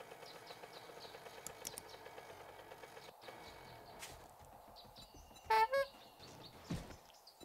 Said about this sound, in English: You honking your horn at me?